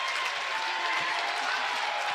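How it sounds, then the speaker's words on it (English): Basketball fans in a gym at a conference tournament applaud a free throw, a steady wash of clapping from the crowd heard at a moderate distance for the whole stretch. "Senath Hornersville fans applauding their approval as Caden Mayberry back into the ball game"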